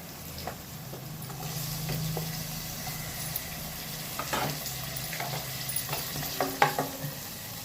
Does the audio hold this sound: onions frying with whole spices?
yes